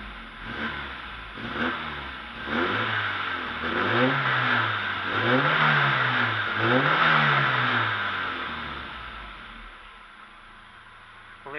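A Mercedes A-Class engine runs steadily after a rough-idle fault was repaired, giving a close, even hum with gentle rises and falls in pitch before it settles quieter near the end.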